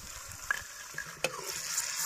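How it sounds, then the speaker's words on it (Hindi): Chopped tomatoes are stirred into browned onions in a frying pan, a soft sizzle under a few scraping clinks of the spoon against the pan, quiet and close, without speech. "इसको अच्छी तरह से मिक्स कर लेंगे इस प्याज के अंदर"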